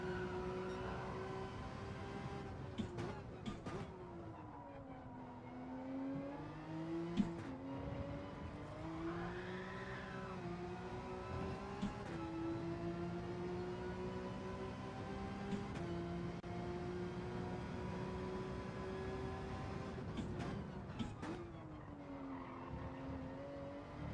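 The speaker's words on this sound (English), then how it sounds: "The engine sound feels different. This is the 911 RSR." Porsche 911 RSR race car engine in Gran Turismo 7, a sustained high-revving racing drone that rises and falls with gear shifts and acceleration, with brief tire squeals over it throughout.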